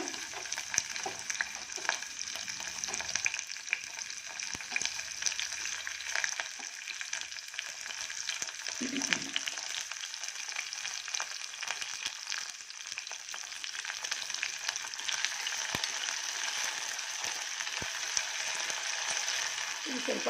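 Ground cinnamon and clove paste frying in hot oil with whole spices for white pulao: a steady, even sizzle throughout, close and moderately loud, with occasional faint stirring clinks and a brief murmur of voice.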